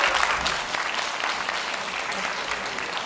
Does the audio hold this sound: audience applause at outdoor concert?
yes